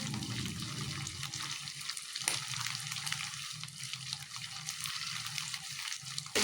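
Chicken manchurian frying in oil over a low flame makes a dense, continuous sizzle with a watery hiss, close and even throughout, with no talking.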